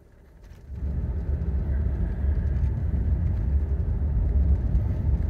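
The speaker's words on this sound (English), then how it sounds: "Vehicle accelerates very well." A 2002 Lincoln Continental with 16K miles accelerates from inside the cabin, its low engine and road rumble rising quickly and then holding steady and fairly muted.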